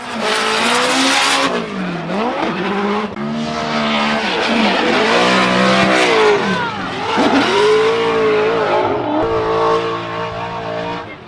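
Carbon Kevlar BMW drift car at a Formula Drift event in St. Louis, a loud near engine howling and revving up and down across the whole run, with tire squeal and crowd noise beneath.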